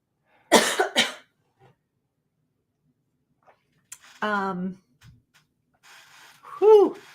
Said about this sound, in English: that was the first time I coughed today